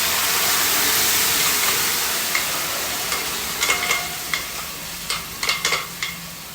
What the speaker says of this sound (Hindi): जितनी देर में हमारे चने फ्राई होंगे इधर चाय भी बॉयल हो जाएगी